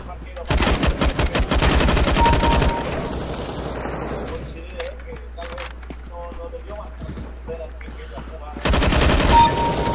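Automatic gunfire rattles in rapid bursts during an online shooter game, loud and close, with quieter scattered shots and game noise in between and a final loud burst; a player talks over it.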